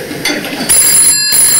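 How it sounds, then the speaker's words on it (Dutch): A telephone rings close by, an electronic trill with bright high tones and no talk, cutting off briefly before ringing again. "Telefoon"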